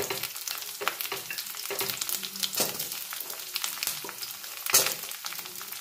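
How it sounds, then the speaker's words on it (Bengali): Potatoes and carrots tipped into a pan of hot oil and stirred, giving a steady close sizzle with scraping and clattering stir strokes throughout and a louder clack near the end. "আমি প্রথমে আলু আর গাজরগুলো আমি এর মধ্যে অ্যাড করে দেব।"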